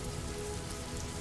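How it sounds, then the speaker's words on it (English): Rain falling over a stone fountain and filling its basin, a dense, steady hiss of drops with no pauses, soft and close, with no voices. "the rain gathered over the fountain and began to fill its basin"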